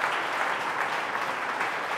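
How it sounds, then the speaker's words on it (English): Audience applause at a gym business talk, a steady dense patter of many hands at moderate distance, continuous and even with no voices over it. "let's give everyone that just came through on the slides a round of applause for driving the needle"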